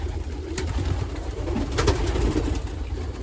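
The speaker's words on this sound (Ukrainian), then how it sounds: "багато є голубенят" Young pigeons in a loft give soft, repeated coos and calls over a steady low rumble of background noise.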